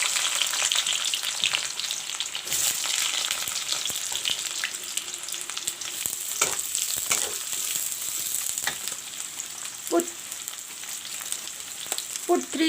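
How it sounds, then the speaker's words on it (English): Sliced onions fry in mustard oil for a white pumpkin curry, producing a loud, steady sizzle throughout with occasional stirring scrapes and light knocks, and no talking. "and fry the onions. The onions are fried up."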